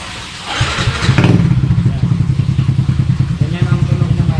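Engine of a Suzuki Smash 115 motorcycle after a carburetor replacement and a changed exhaust pipe, running close and loud with a steady, rapid pulsing putter after a brief rev, with a voice faintly underneath.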